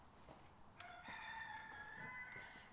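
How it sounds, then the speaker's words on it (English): A rooster crows once at a distance, a faint drawn-out cock-a-doodle-doo heard alone in a quiet room. "Did you hear my rooster?"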